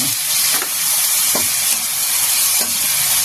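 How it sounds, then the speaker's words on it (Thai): Curry paste and fish sauce stir-fried in a pan over low heat give a steady, close sizzle and hiss, broken by a few soft scrapes and stirs throughout. "แล้วก็ใส่น้ำปลาลงไปผัดตอนนี้เลย"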